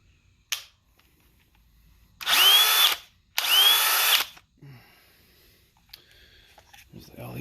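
A DeWalt 20V hammer drill from the DCK2100D1T1 kit revs up in two short, loud bursts of steady motor whine, with a brief click before them and quiet handling noises between and after.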